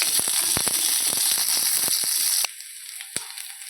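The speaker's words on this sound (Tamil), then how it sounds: "கருவேப்பிலை, பெரிய வெங்காயம் ஒன்று பெருசாக போட்டுருக்கேன். நல்லா வதக்கி விட்டுக்கலாம்." Onion and curry leaves sautéing in a pan: a steady close sizzle with sharp scraping stirs, dropping to a quieter hiss after a couple of seconds with one more clink.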